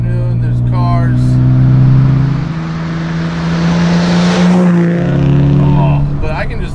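Modified 1960 Aston Martin DB4 Series II engine heard from inside while driving in Sunday traffic, a loud steady droning note that rises and shifts through the run as voices talk over it.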